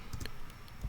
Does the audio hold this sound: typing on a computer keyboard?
yes